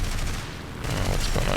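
Aircraft guns on a German reserve plane in War Thunder, firing a loud continuous rattling burst over engine drone for the full moment.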